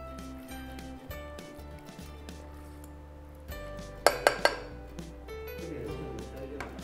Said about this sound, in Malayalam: നന്നായിട്ട് എല്ലായിടത്തും പിടിക്കുന്ന രീതിയിൽ ഇളക്കുക